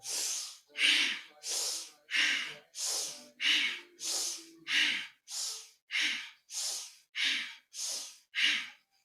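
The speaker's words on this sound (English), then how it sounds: "Again, we're breathing through the nose, deep, powerful breath." Deep, powerful breaths through the nose during a Kundalini yoga navel kriya, about thirteen forceful rhythmic snorting inhales and exhales repeating at an even pace, close and loud with no talking.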